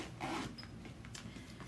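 Faint zipper sound from a clear plastic pouch on a Yazzii travel craft wallet, a soft, quiet rasping drawn out over a second or so.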